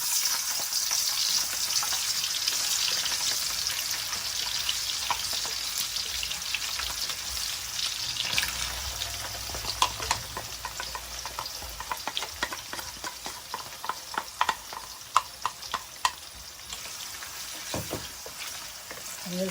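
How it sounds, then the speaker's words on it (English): Onions poured into hot oil in a wok hiss in a steady, close sizzle for fried rice with lamb chops. Sharper crackles and pops grow more frequent toward the end, with no talking. "I have on fire in my wok pan some oil, and I'm just going to briefly pour in my onions"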